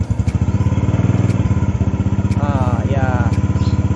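A restored 1990 Honda Astrea Prima motorcycle engine runs close by with a steady, rapid putter and is blipped with a little throttle, while someone talks over it.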